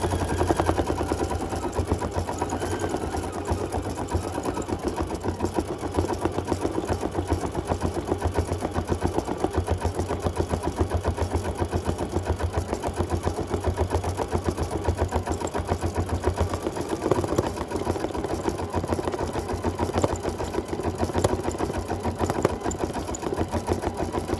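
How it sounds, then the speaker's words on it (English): An embroidery machine stitches a stick-of-dynamite design onto a knit hat with a fast, even mechanical chatter and a steady motor hum. It runs close and unbroken for the whole stretch, with no voices. "So we'll go and we'll embroider the stick of dynamite and take it out of the hoop."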